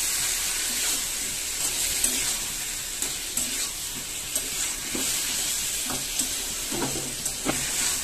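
Curry masala for a tilapia fish curry with ridge gourd and potato cooks in oil with added water, giving a steady close sizzle broken by repeated scrapes and stirring knocks, with no voices.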